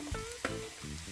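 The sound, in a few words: sliced onions frying in cooking oil in a frying pan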